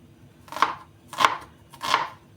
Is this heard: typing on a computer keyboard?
no